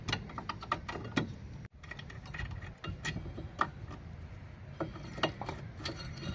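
A ratchet works loose a 17mm caliper bracket bolt on a Tata Indica front suspension, giving steady, fairly faint repeated clicking with scattered metallic ticks and one brief pause.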